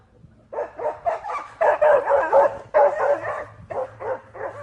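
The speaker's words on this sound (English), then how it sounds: "The dog's scared barks and the wolf's haunting howls made a mysterious sound" A frightened dog in quiet woods barks repeatedly in close, loud bursts with yelping, whimpering edges, in uneven clusters separated by short pauses.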